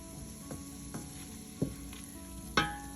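Onions being stirred in melted butter in a soup pot, a few soft scraping strokes of the spoon over a quiet steady sizzle, with one sharper clack near the end.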